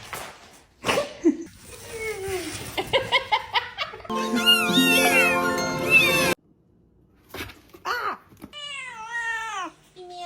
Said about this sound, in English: I got this box and then I turned around and now I have a cat.